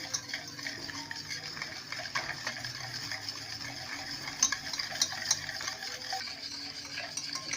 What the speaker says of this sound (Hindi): अब हम इसमें मिल्क डाल देंगे ग्रेजुअली